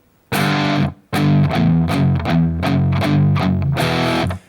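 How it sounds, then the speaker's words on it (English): A heavily distorted electric guitar plays a chugging riff of power chords from a song, loud and close, with a short pause after the first chord before the riff continues. "A lot of gain going on there, a lot of distortion on my sound."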